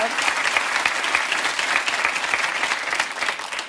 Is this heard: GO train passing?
no